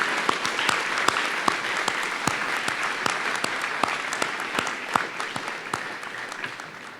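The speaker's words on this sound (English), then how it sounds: "I'd ask for one more round of applause for our choir, concert bands, and our dragon singers" Sustained audience applause at a Memorial Day ceremony honoring a choir and concert bands, dense clapping throughout with sharper individual claps standing out, steady and fairly loud with no speech.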